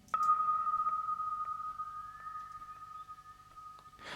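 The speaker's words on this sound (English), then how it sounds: "I've got the same synth there, delayed, with a nice stereo ping pong delay" Two layered synths, one with stereo ping pong delay: a single sustained, bright tone holds steadily for several seconds with faint echoing repeats and a soft low pulsing underneath, quiet and alone.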